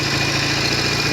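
A Norton Commando 750 motorcycle engine ticks over at idle with a steady low thrum and a fast, even pulse, continuous and close throughout.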